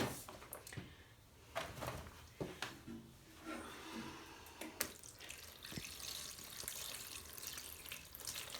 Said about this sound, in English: I'll lift this out and I'll put water in the bottom of the tray.